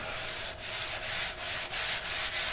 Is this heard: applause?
no